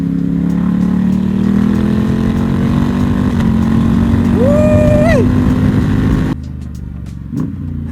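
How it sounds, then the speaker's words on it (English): A Ducati Diavel 1260 Lamborghini motorcycle engine drones loudly and steadily, then blips upward in a sharp rev during a downshift before the sound drops away abruptly. "the downshifts on this thing right now are freaking insane"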